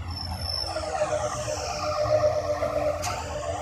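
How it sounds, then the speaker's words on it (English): A synthesized sci-fi impact is processed through BLEASS phaser and chorus plugins, giving a swirling, sweeping, metallic wash with a low rumble beneath and a brief bright zap near the end, moderately loud and with no voices. "The phaser and the chorus combined sounds like this."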